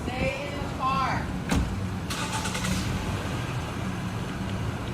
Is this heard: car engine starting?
yes